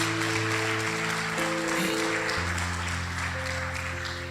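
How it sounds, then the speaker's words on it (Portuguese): Applause from a congregation at a men's church congress fills the hall, steady and fairly loud, under sustained organ or keyboard chords that change pitch partway through; no one talks. "Você pode dar um forte aplauso ao Senhor por isso?"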